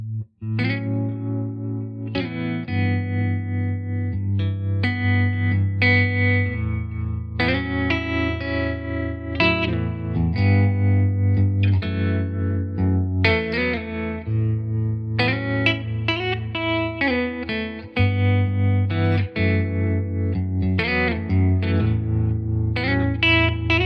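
Electric guitar played through a Harmony H620 tube amp, tremolo at about half speed and depth and reverb a little past half, ringing out in sustained chords and riffs with a pulsing, wavering wash and continuous loud tone throughout.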